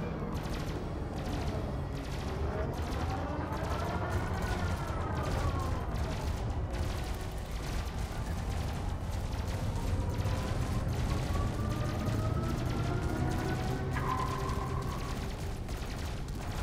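Ships in the space combat game Elite Dangerous open fire on a Vulture: dense, unbroken weapon fire with sweeping, wavering tones over a steady low engine hum, loud and close throughout.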